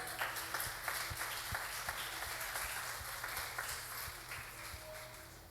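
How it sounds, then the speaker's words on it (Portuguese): Church congregation applauding during a sermon service, a soft, distant wash of many hands clapping with a few sharper claps standing out, fading gradually toward the end. "Você pode aplaudir esse Jesus?"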